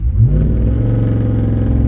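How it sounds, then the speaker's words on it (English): A Ram TRX pickup's engine revs loud and close in launch mode, a steady deep roar that swells briefly near the start and then holds at a constant pitch, with nothing else audible. "you'll actually be able to hear a difference in the engine sound when it goes into launch mode"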